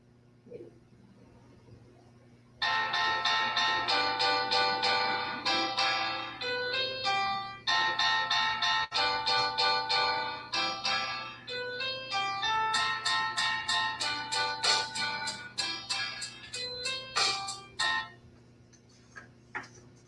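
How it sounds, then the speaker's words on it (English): An acoustic piano plays a quick melody of bright struck notes at a steady rhythm, moderately loud and close, after a short quiet start. "And the piano is an acoustic stringed instrument."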